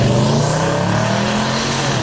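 A 2020 Nissan Titan pickup truck roars past up close, a loud, full engine rush with rising and falling pitch over two seconds, no talking.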